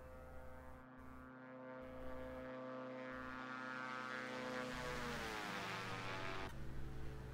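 A twin-engine Diamond DA62 in the X-Plane flight simulator makes a flyby, its propeller drone holding steady, then swelling and shifting downward in pitch as it passes close, with no talk.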